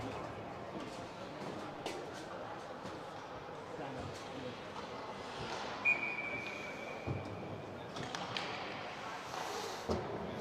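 A referee's whistle at an ice hockey game sounds one steady, moderately faint blast lasting about two seconds, carried over constant arena crowd noise with scattered thumps and taps, while a voice talks in the background.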